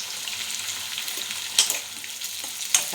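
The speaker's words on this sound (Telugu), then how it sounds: "జీడిపప్పు వేస్తున్నా, తర్వాత టమాటా వేస్తున్నా." Cashews and tomato frying in a pan for Bombay rava upma, a steady bright sizzle close up, with two sharper crackling bursts as the food is stirred.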